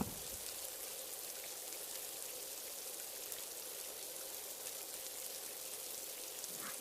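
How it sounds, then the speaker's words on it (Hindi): Heavy rain falls steadily outdoors, a soft continuous hiss of drops with no breaks, faint and evenly spread throughout. "बाहर बहुत तेज बारिश होने लगती है"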